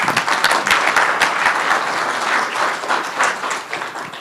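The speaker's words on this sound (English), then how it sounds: "so please give them a round of applause" Sustained audience applause at a conference presentation session, dense overlapping claps filling a large room at steady loudness with no talk over it.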